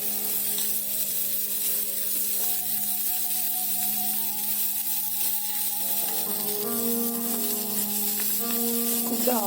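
Sliced amla sizzling and spattering in a pan with garlic and turmeric powder, a steady, continuous fry hiss with faint stirring scrapes.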